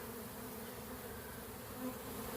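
A honeybee colony swarming creates a dense, steady buzzing drone of many bees close by, continuous and loud throughout.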